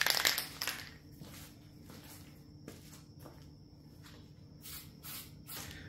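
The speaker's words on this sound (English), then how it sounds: "We'll go ahead and spray it with our Weld Thru primer." Weld-through primer sprayed from an aerosol can onto a rusted truck bed repair panel, a faint hissing burst at the start followed by quieter intermittent spray puffs and light rattling.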